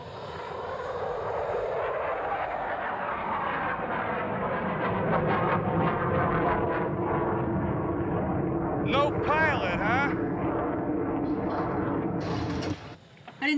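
A steady, loud roar of aircraft engines droning throughout, with a higher mechanical whine rising near the end and voices faintly mixed in.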